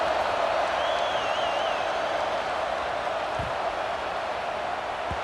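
Stadium crowd in EA Sports College Football 26 after a touchdown, a steady broad murmur of a large audience filling the background, subdued and continuous with no distinct cheers.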